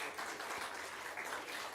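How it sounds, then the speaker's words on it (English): Applause from a webinar audience, a short burst of steady clapping heard faintly and from a distance. "A big round of applause for Mr. Nikhil Rai."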